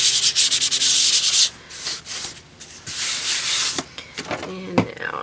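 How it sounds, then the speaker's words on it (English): Rhythmic abrasive sanding strokes rubbing across a dry acrylic-painted surface, a burst of quick back-and-forth passes followed by slower, lighter strokes with brief pauses. "I'm going to give it just a very light sanding"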